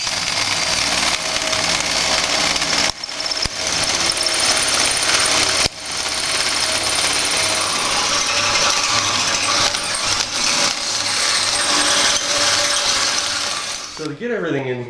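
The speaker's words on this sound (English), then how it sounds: "I'm going to let the drill do the work and not necessarily my hands." A drill bores through a fabricated metal tube mount with a threaded insert on a tube-chassis front end and upper radiator core support. A loud, steady, grinding metallic whine runs close and continuous for the whole stretch, with a couple of brief dips, then stops at the end.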